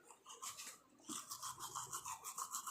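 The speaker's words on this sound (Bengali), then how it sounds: "আমি এখন মুখ ধুচ্ছি" A toothbrush scrubs teeth in quick, rhythmic back-and-forth strokes, close and soft, after a brief first burst and pause.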